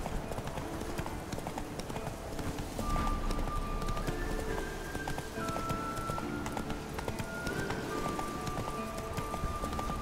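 Horse hooves clip-clop steadily through the whole stretch in The Witcher 3: Wild Hunt, a continuous trotting rhythm under game music tones, with a voice talking lightly over it.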